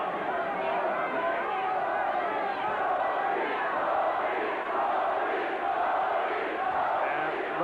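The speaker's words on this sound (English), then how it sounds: "And the crowd coming alive once again." A boxing crowd murmurs and cheers in a steady, dense roar of many voices that swells slightly across the passage, heard from amid the arena audience.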